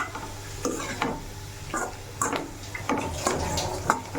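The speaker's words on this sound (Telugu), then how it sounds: "వేరుశనగలతో కొట్టినటువంటి పొడి వేసుకొని బాగా కలుపుకున్నాను" A spoon scrapes and stirs a carrot fry with peanut powder in a pan, making rhythmic scraping strokes about every half second to second over a soft sizzle, close and fairly loud.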